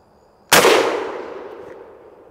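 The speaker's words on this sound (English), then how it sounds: "some 12 gauge buckshot fired out of our Maverick 88" A single loud blast of 12 gauge buckshot from a Maverick 88 pump shotgun fired at body armor outdoors, an abrupt sharp report followed by a long decaying echo lasting nearly two seconds.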